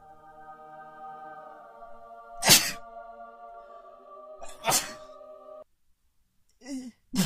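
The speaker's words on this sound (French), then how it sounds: "Attends, j'ai éternué combien de fois?" Two or three short, sharp sneezes burst out close by over a steady electronic tone, with a brief breathy sound near the end.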